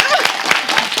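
Live audience clapping at a French variety show, a brief dense patter with a few sharp hand claps standing out, fairly close and steady throughout.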